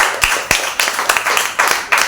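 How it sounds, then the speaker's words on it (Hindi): A Good Friday church congregation claps loudly together, a fast run of sharp overlapping hand claps filling the hall for about two seconds with no talk over it. "एक जोरदार ताली बजाइए।"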